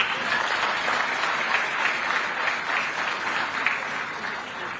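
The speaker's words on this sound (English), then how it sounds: "May we clap for this sector again." An audience at a Zambian ICT technology conference breaks into applause: steady, dense clapping from a large crowd that holds for several seconds without anyone speaking.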